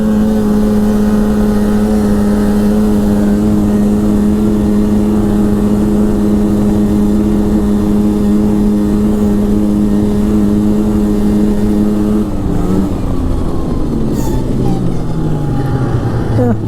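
A fan-cooled 2002 Polaris Super Sport 550 snowmobile engine revs loud and close on a thin-snow, dirty road, holding a steady high drone before dropping and sweeping through rising and falling pitch as it accelerates.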